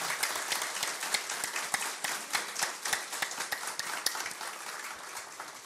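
Audience applause at a solemn council session honoring caretakers' day, a steady wash of many hands clapping close by, with sharp individual claps standing out throughout and no talking.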